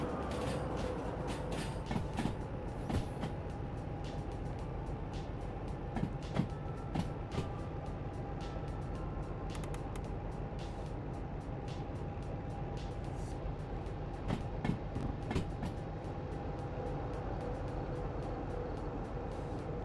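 Train cars rolling along track in the railway simulator game Derail Valley, a continuous rumbling roll with irregular clicks and clacks over rail joints and a faint tonal whine throughout.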